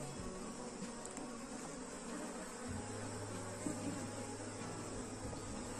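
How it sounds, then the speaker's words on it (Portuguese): Dense, steady buzz of a honeybee swarm at a hive, a continuous low hum with some louder drones passing close by and no voices. "Quando o enxame está desse tamanho, é muito fácil, tá?"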